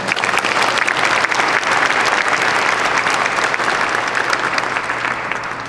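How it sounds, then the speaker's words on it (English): A large gathered audience applauds participants of a mass blanket exercise, dense sustained clapping that stays loud for several seconds before gradually easing off. "let's give all of them a round of applause"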